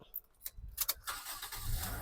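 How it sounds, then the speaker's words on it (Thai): A 2015 Toyota Corolla Altis 1.8E engine cranks briefly and catches on the first try, settling into a low idle after a few clicks and rattles; a voice is faintly present. "สตาร์ทที่เดียวติดนะครับ"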